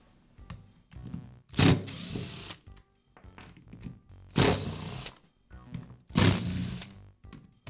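Plastic rear handle half being pried and lifted off a Makita power scraper, with light clicks and rattles punctuated by three loud, broad bursts of scraping or clattering, close and alone.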